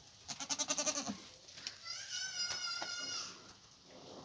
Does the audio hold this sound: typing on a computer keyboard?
no